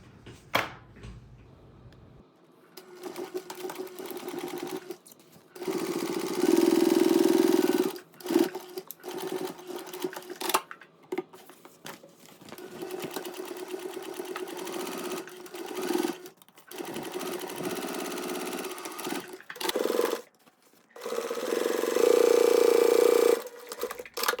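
A sewing machine stitching back panel pieces of a fabric traveler pouch runs in several bursts, some steady and some longer and louder, with brief pauses between seams and no talking.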